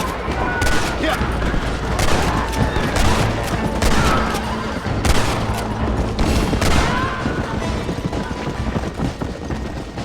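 Gunfire in the video game Red Dead Redemption, loud rapid shots in bursts over a dense layer of galloping hooves and action noise, continuous and close, with no speech.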